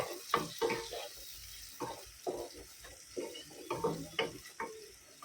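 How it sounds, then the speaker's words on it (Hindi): Green peas being stir-fried with onions in a home kitchen pan: a low sizzle under repeated scraping and stirring strokes of a spoon, close and fairly quiet. "अभी वटाने को अच्छे से भूनेंगे प्याज के अंदर"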